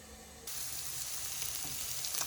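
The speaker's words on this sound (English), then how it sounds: "I've got frying up all the vegetables, and there's a couple of vegan sausages in there as well" Vegetables and vegan sausages fry together in a pan for bubble and squeak, a steady close sizzle that jumps louder about halfway through and keeps crackling without a break.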